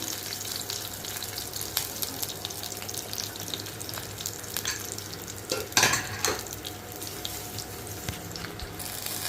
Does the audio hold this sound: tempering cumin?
yes